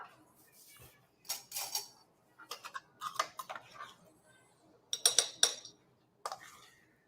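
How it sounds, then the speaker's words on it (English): Dishes and cutlery clink faintly at a Thanksgiving dinner table, a few sparse bright clatters and taps spread out over several seconds in a quiet room. "Don't break the dishes."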